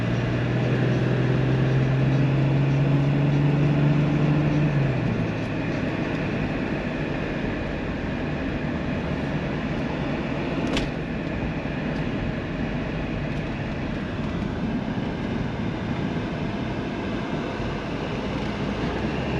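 A 1999 BMW M3 with an automatic gearbox pulls hard at speed, a steady loud engine drone with a sharp pitch drop at a shift early on, then a sustained rumble with road and wind noise.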